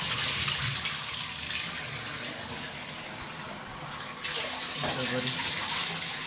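Water runs steadily from a tap into a tub while a one-year-old red nose Pitbull is bathed, a constant gushing wash that dips briefly partway through, with faint voices mixed in.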